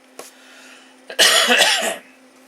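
A single sharp cough bursts out loudly and briefly, preceded by a faint click, against a steady low hum.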